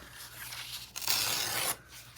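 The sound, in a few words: trimming off the bottom of a paper tag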